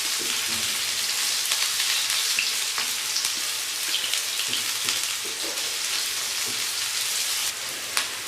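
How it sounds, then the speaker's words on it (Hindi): Chopped onions frying in a pan for a tawa chicken dish give off a steady, loud sizzle that holds evenly throughout, with faint stirring scrapes and no talking. "अब हम प्याज को फ्राई करेंगे, डार्क नहीं करेंगे, लाइट ब्राउन होने तक हम इसको फ्राई कर लेंगे।"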